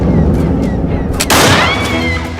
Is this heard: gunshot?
yes